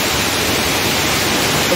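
The Tons waterfall near Rewa, where a steady, loud roar of rushing water fills the whole clip as an unbroken broadband wash, close by and with no voices.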